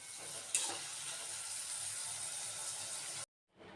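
Thankuni leaf curry stirred in a pan gives a quiet, even sizzle with a faint scrape of the spoon early on, running steadily before cutting off abruptly.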